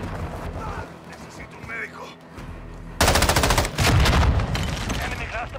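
Loud, rapid automatic gunfire bursts out in Modern Warfare II, with scattered shots and game sounds first, then a sudden sustained volley. A player's voice talks intermittently through it.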